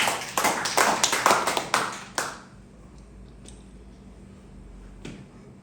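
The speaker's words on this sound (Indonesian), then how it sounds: "Kita berikan tepuk tangan buat Tuhan." A church congregation claps their hands in a short, loud burst of uneven claps lasting about two seconds, then it stops abruptly, leaving near-silence with a couple of faint knocks.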